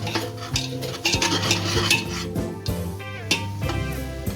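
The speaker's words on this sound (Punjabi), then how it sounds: "ਹੁਣ ਅਸੀਂ ਇਹਨੂੰ ਮਿਕਸ ਕਰਦੇ ਆ" Mixing spoon stirring salted, roasted spices in a metal pan while cooking green peas curry; repeated scraping and clinking strokes against the pan, close and moderately loud, with no talk.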